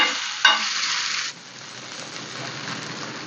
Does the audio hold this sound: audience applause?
no